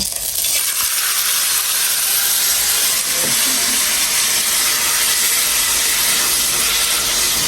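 A few pieces of meat sizzle in hot oil in a pan on a home stove, producing a loud, continuous, hissing crackle close by that holds steady without pause.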